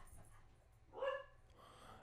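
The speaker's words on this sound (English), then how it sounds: "And now my dog's barking." A dog gives one short, faint bark from somewhere off in the room, with a low background hum and nothing else around it.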